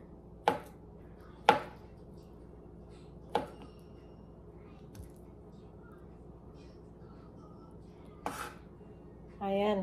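Knife chopping thin slices of banana for fritters on a cutting board: a few sharp, sparse taps spaced a second or more apart in a quiet room, with a short burst of speech at the end.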